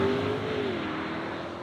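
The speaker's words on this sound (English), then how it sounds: "we have just hit the road in the M5" A new-generation BMW M5 hybrid drives on the road, a steady engine and road drone from inside the cabin, continuous and moderately loud with a faint tonal whine early on.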